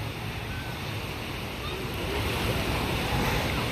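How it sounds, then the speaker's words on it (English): Ocean waves at a beach, a steady broadband wash of surf and wind that swells slightly louder midway, close and continuous with no clear talk over it. "So we are at the beach, guys."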